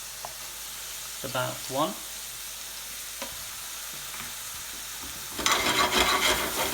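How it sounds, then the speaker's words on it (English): Mixed curry powder sizzles and fries in a pan for a chicken saag curry, a steady hiss under a brief spoken remark, and it grows louder and brighter near the end. "now I'm going to add my mixed curry powder in there."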